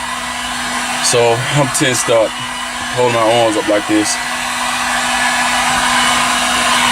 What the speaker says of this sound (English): Then I'm gonna turn this heat gun off